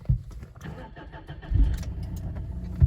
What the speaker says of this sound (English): Then we'll start the engine.